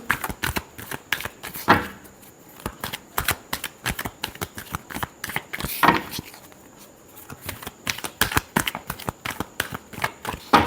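Tarot cards are shuffled repeatedly up close, a quick series of crisp riffling flicks and taps with short gaps between bursts.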